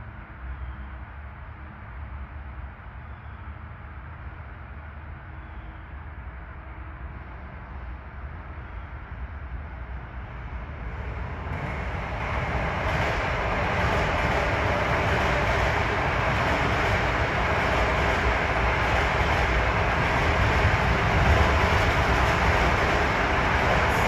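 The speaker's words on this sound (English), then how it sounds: "here comes 2062 from New York to Ronkonkoma" LIRR train 2062 from New York to Ronkonkoma approaches a station, a low rumble that swells into a loud, steady roar of wheels and engine as it draws close and passes, with no talking.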